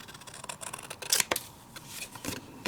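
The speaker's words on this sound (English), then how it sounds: "So I'm just doing it with scissors" Scissors snipping through scored cardstock along a die-cut line for a treat pocket: a few close, crisp cuts with a sharper clip near the middle, without any speech.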